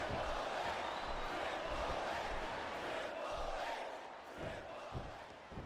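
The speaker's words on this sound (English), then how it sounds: "I cannot remember the last time I've seen a crowd this pumped up." Wrestling crowd in WWE Smackdown vs Raw 2008 roaring steadily, a dense wash of cheering and shouting that holds loud and then eases slightly toward the end.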